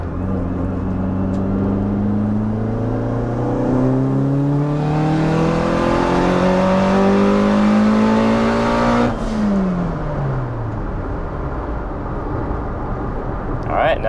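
A turbocharged car with a stock block, running wastegate-only boost, pulls hard in third gear at wide-open throttle, engine pitch climbing steadily for about nine seconds before an abrupt lift-off and falling revs, loud and close throughout.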